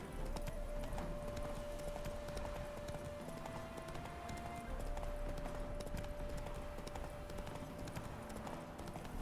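A horse gallops in The Witcher 3 video game, its hoofbeats drumming steadily and close throughout, with a sustained musical tone running underneath.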